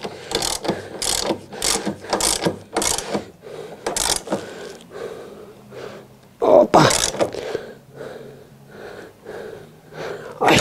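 Ratchet wrench clicking in quick bursts as 17 mm self-locking nuts on a BMW E36 strut tower brace are tightened, close and loud, with a short pause and a heavier clatter midway.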